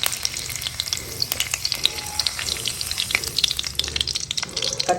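Urad dal and mustard seeds sizzle and crackle in hot oil, a dense, continuous spatter of sharp pops and hissing, close and loud.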